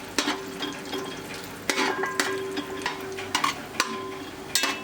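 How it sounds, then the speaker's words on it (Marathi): Garden cress seeds (aliv) fry in ghee in a pan, giving a steady close sizzle with repeated sharp scrapes and stirring clatters of a spoon against the pan. "हे पहा हे थोडेसे असं अलगद लालसर यांना आपण फ्राय करूया तुपामध्ये"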